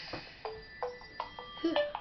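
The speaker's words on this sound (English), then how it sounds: "Hang on, my phone's ringing." Cell phone ringing with a short, repeated electronic chime, quiet and tinny, its tones recurring in a quick pattern over about two seconds with no talk over it.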